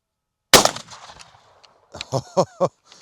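A single loud, sharp shotgun blast fires a container cartridge at a 25-metre target outdoors after a brief silence, its report trailing off quickly, followed by a few short spoken words.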